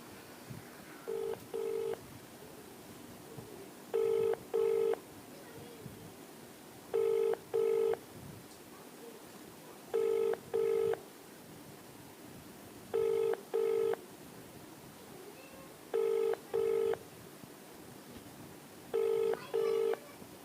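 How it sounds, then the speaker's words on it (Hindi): An unanswered outgoing phone call to a police station, its ringback tone sounding in regular double pulses about every three seconds, repeating seven times over a quiet line with no voices. "फ़ोन अभी तक नहीं उठाया गया है।"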